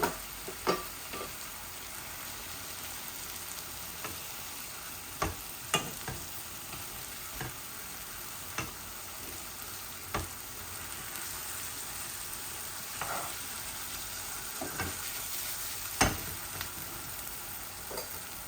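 Koi fish (climbing perch) sizzling in a frying pan, with a steady hiss of hot oil broken by sharp crackles and pops at irregular intervals, close and even.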